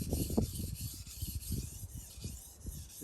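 A knife blade rasping in steady back-and-forth strokes on a King Deluxe 1200 whetstone, light pressure, close and continuous with a gritty scraping texture.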